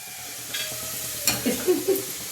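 Karjikayi, a sweet stuffed pastry, sizzles softly in hot oil while being turned, with a few clear scraping and stirring clinks standing out near the end.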